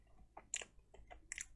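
Close, soft chewing of a plant-based Feastables cookie, several quiet moist bites and mashing sounds in quick succession with no talk.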